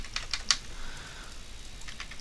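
Quick typing on a computer keyboard during a Monster Hunter World session, a run of light, crisp key clicks with a few sharper taps, close and clear over a soft background hiss.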